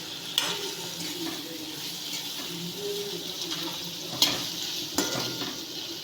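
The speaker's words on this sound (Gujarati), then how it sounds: "હવે આ બધું જ આપણે મિક્સ કરીને હલાવી દઈશું." A spice mixture with salt and garam masala is stirred in a pan for an onion-tomato sev curry, a steady close sizzle and scrape with a few sharp clinks of the spoon against the metal.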